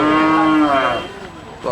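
An aggressive-looking bull at Ramdas Munshir Hat cattle market in Banshkhali, Chattogram, lets out one loud, close, drawn-out moo that fades away after about a second.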